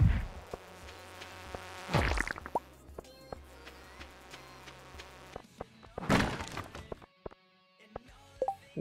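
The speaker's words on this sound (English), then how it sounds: "The fuck is that bee noise?" A bee buzzes in the farming video game Stardew Valley, coming in soft bursts among clicky game thuds and plops, with brief quiet gaps between.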